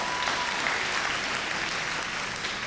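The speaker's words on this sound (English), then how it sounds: "another round of applause, please, for Tugwang Jr." Dense, steady crowd applause from a TV singing-competition audience, cheering contestant Tugwang Jr. as he leaves the stage, loud and continuous throughout with no gaps.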